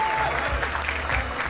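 A crowd at a Memon community event in Houston claps in a short, steady wash of applause, with low voices and a faint tone sounding beneath the clapping.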